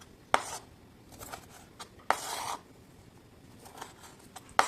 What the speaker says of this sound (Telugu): ఇలా అయితే అన్ని పీసెస్ కూడా కట్ చేసేయండి.